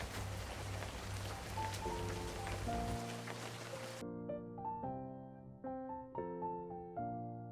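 Rain falls steadily on a rainy day, a dense hiss of drops for about four seconds beneath soft melodic tones, then the rain cuts out and only the gentle music continues.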